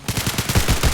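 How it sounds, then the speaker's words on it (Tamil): A fast-firing gun in the shooter game Hyper Shot lets loose a dense, loud stream of rapid shots, roughly ten per second, continuous throughout. "ரொம்ப ஃபாஸ்டா சுடுது கைஸ் இந்த கன்னு."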